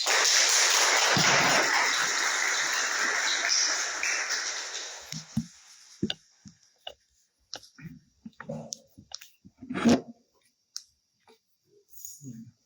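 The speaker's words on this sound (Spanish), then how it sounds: "lo recibimos con un fuerte aplauso" An audience applauds to welcome a speaker at a talk on liberalism, with steady dense clapping for about five seconds that fades out, followed by scattered clicks, footsteps and small handling noises in a quiet room.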